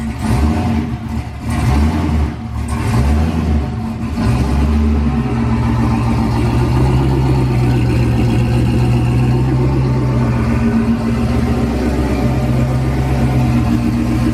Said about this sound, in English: Sounds like every other LS turbo car with a 5-inch exhaust.